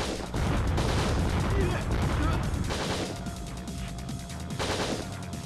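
Repeated shotgun and pistol fire in the video game Winback comes in dense, loud bursts of booming shots, nearly continuous with brief lulls.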